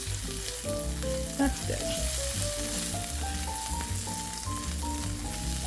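Onions sautéing in an Instant Pot for refried beans, a steady bright sizzle with occasional stirring scrapes and light clinks, and a brief spoken remark.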